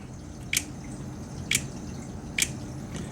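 Three sharp, short electronic clicks of a Polarstar airsoft DMR's solenoids firing in semi-auto, spaced about a second apart, faint against a quiet background hiss, with no speech.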